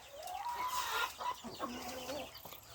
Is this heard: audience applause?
no